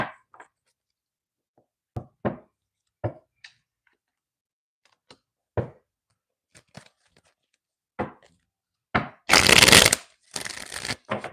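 Tarot cards are handled and shuffled in separate short riffles and taps, each quiet and close, ending in a louder, longer burst of shuffling; no one speaks.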